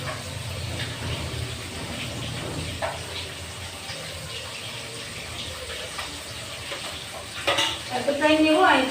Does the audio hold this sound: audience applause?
no